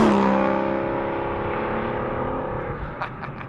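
A manual Aston Martin V12 Vantage in sport mode, its engine note loud and close at first, then falling away over a few seconds, with several short bursts near the end and no one talking.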